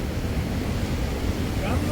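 Water from the Vartu 2 dam overflows after heavy rain, making a dense, continuous roar that stays loud and unbroken throughout.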